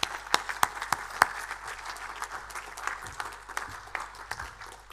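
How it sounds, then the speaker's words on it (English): An awards ceremony audience for a First Nations short film competition breaks into applause, a steady wash of clapping with a few sharp, loud claps standing out near the front. "So another round of applause, please."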